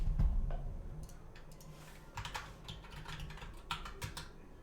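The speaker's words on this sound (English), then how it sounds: "I'm just gonna type it in." Fingers type on a computer keyboard in a quick, steady run of light clicks that continues throughout, up close and without talk.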